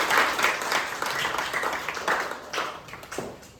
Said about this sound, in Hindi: आ जाए साजन के लिए एक बार और दोबारा तालियां बजा।